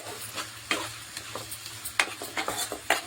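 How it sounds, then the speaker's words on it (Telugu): Green chilies, cumin seeds and curry leaves frying in a pan for a Telangana-style gongura chicken, with a steady sizzle broken by sharp spatula scrapes and stirring clicks, close and fairly loud, no voices. "గోల్డెన్ కలర్ వచ్చే వరకు ఫ్రై చేయాలి"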